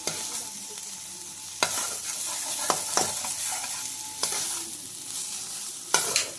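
Cauliflower stalks and mixed winter vegetables for chorchori stir-fried in a pan, a continuous close sizzle broken by several sharp scraping strokes of a spatula at irregular intervals.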